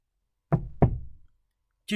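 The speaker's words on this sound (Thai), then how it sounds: "จู่ๆเสียงเคาะประตูก็ดังขึ้น" Two sharp knocks on a door, close and distinct, about a third of a second apart, followed by silence.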